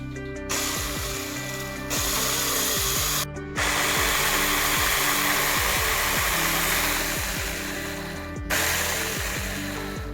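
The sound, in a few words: small tree cutting machine running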